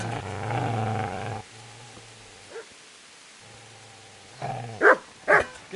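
Dog growling and barking in Kingdom Come: Deliverance: a low sustained growl at first, then quieter rumbling, ending in a few sharp, loud barks close by.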